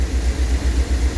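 An old Rolls Royce engine idles close by, a loud, low, steady rumble with an even pulsing rhythm and no voices.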